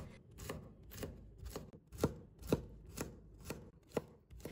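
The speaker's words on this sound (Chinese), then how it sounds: "再准备几根豆角，把它切成碎丁。" A knife chops green beans into small pieces on a cutting board, sharp rhythmic thuds about two per second, close and clear, with no talk.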